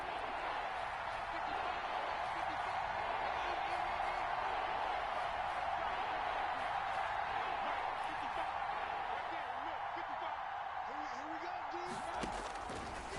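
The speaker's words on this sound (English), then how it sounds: "the crowd getting into it as we come up on a big 3rd down" A large football stadium crowd roars steadily ahead of a big third-down play, a broad and constant wash of cheering noise that surges slightly near the end.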